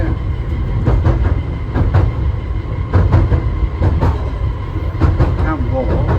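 Small seaside tourist train running with a steady low rumble and repeated clickety-clack wheel beats, heard from on board with some talk mixed in.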